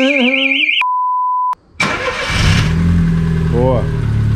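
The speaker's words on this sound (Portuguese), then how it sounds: "pra ligar o carro, deixar o motor esquentar um pouquinho" A car engine cranks and catches after a brief electronic tone, then idles roughly with a low rumble, loud and close, with voices in the background.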